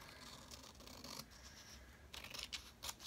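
Scissors cut through magazine paper at close range, with quiet, crisp snips in short bursts, clustered near the start and again toward the end, in a hushed room.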